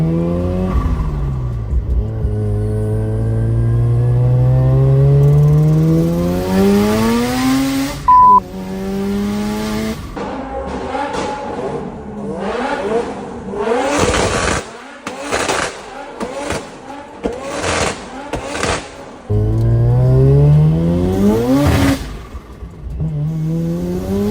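A rotary-swapped Subaru BRZ engine revs hard and drives, with rising and falling high-pitched rotary tones through the gears, sharp blips and a fast run of staccato revs in the middle. Loud and close, with no talk.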